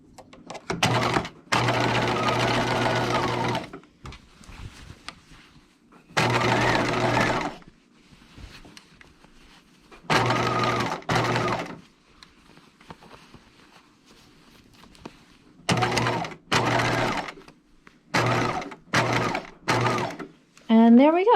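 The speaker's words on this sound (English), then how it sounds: "now I'm going to start stitching again from the other side, meeting up with my previous understitching." A home sewing machine runs in repeated bursts of steady stitching, understitching a dress from the other side, with quiet pauses between runs.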